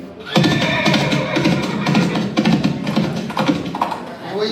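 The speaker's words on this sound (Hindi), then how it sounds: "अचानक उन दोनों सैनिकों को घोड़े की आने की आवाज सुनाई देती है।" A horse approaches with a burst of rhythmic hoofbeats and a whinny, a loud close sound effect that plays alone without speech.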